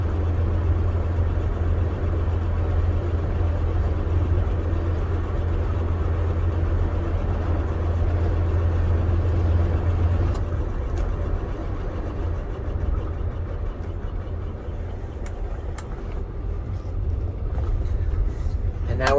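A 1984 Chevrolet C10 square-body pickup truck drives along with a steady low engine drone and road rumble from inside the cab; a low hum drops away partway through, and faint clicks and rattles come near the end.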